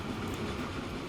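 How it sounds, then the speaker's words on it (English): In the video game Train Fever, a simulated train runs along rails with a steady rumbling roll and faint rhythmic clatter, heard alone at moderate volume. "That train even just sounds nice."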